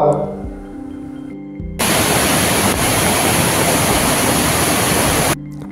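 Bamni waterfall roars as a loud, steady rush of falling water that starts abruptly after a short stretch of quieter sound and holds at full strength until it cuts off.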